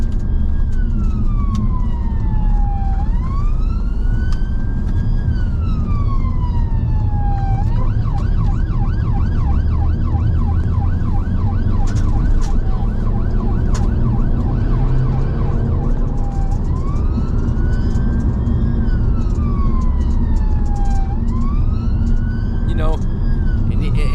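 A UK ambulance siren wails and yelps continuously through dense rush hour traffic, loud and close, switching between long rising-falling sweeps and rapid yelping over a constant roar of road noise, with a voice talking over it.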